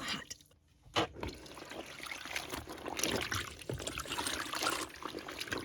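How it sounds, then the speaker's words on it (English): Hot water, about 180 degrees, pours over soap pieces in the drum of a simple washing machine at an off-grid Alaska cabin, a steady splashing trickle that runs unbroken and fairly close. "Then I pour the hot water over it because it will really help all of those little soap pieces dissolve."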